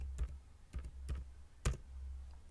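A few separate keystrokes on a computer keyboard, spaced unevenly over a couple of seconds as a limits command is typed, soft and close against a low background hum.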